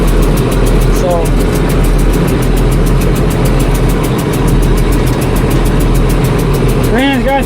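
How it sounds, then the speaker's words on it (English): An International 1586 tractor engine idles steadily and loudly at close range, with a constant low throb throughout and a few brief tonal chirps. "Tractor's back up and running good enough that we can use it if we have to."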